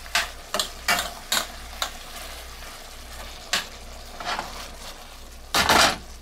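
Beef and broccoli in sauce simmers and sizzles in a pan under a low steady hiss, broken by several close scraping stirs with a utensil and a louder scrape near the end, with no talk.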